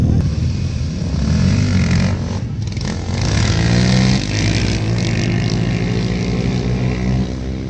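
ATV engines rev loudly and roar past at a night-time drag race at Carolina ATV World, a close, sustained growl that rises and falls with throttle changes.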